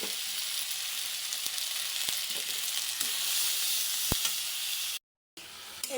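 Green chillies and onion frying in oil with ginger-garlic paste, turmeric, chilli powder, coriander powder and salt, a steady close sizzle with a few light stirring clicks, cutting out briefly near the end before resuming.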